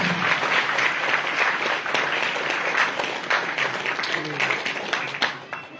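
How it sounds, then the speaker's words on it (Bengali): An audience at a satsang gathering applauds continuously, a dense steady wash of clapping that stays fairly loud throughout, with voices mixed in. "জোরে হাততালি, জোরে হাততালি,"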